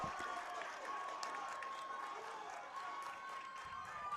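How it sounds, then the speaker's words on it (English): Crowd at a Spartan Stadium high school fall baseball game, Wolfpack at Southridge Spartans, cheering and clapping steadily, a moderately distant, continuous wash of applause with scattered shouts. "The crowd getting into it here at Spartan Stadium."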